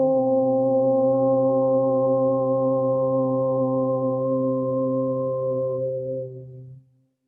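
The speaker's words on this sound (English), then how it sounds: "And then we'll open with the sound of Om." A yoga class chants Om together at the start of the session, one long, steady, resonant group drone that holds for several seconds, then tapers and fades out.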